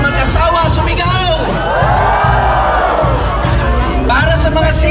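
Crowd at a dance event yelling and whooping on cue, a loud, continuous wall of mixed shouts and cheers with rising whoops, close and dense throughout.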